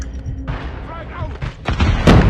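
A frag grenade blast and nearby gunfire in a Call of Duty Mobile hardpoint match, sharp booms landing near the end amid game voice callouts and battle noise.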